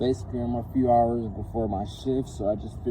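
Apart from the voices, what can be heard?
No everyday noises stand out.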